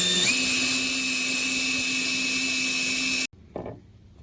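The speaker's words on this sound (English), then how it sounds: "I got the 4 holes drilled" A power drill whines steadily while boring holes in a jon boat deck, a loud, even high-pitched run that stops abruptly, followed by a brief faint clatter.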